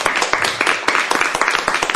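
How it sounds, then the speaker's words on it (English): An audience claps at a city council meeting, a dense burst of many hands in quick uneven rhythm that stays steady throughout the short moment. "I really ask you to refrain from clapping"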